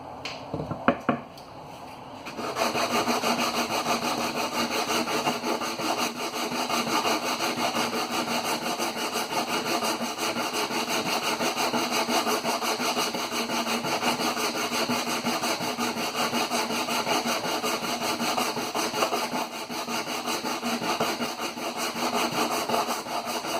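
Continuous rhythmic scraping of abrasive against wood, steady and close, running for a long stretch after a few brief knocks at the start.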